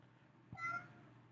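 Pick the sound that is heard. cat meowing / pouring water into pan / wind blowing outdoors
cat meowing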